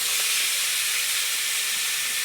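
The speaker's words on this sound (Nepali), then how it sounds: "ल मस्त फ्राई भइरहेछ है लोकल माछा।" Local river fish frying in hot oil over a riverside cooking fire, a loud steady sizzling hiss running continuously throughout, close up and without any voices.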